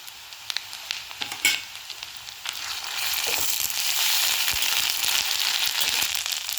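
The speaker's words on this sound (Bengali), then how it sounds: "পেঁয়াজটা লাল করে ভাজা হয়ে গেলে এর মধ্যে দিয়ে দিচ্ছি 1 চা চামচ আদা বাটা।" Sliced onion frying in hot oil with a spoonful of ginger paste stirred in, a steady loud sizzle with sharp scraping stirs early on, the hiss swelling fuller partway through.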